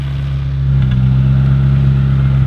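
A McLaren 570S with valved exhaust and high-flow downpipes idles with a deep, steady exhaust drone that swells slightly partway through, loud and close, with no one speaking.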